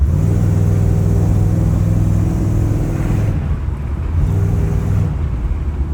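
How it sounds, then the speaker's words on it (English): Exhaust of a brand-new 1920s car idles with a steady low rumble and throb, dipping briefly then returning, with wind noise on the microphone and no talk. "on the way out, we'll do raw audio sound of the exhaust"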